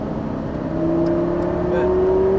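Lamborghini Gallardo Superleggera LP570-4 engine accelerating on a race track: a loud, close, steady roar whose pitch climbs smoothly as revs build over a couple of seconds, with brief faint chirps above it.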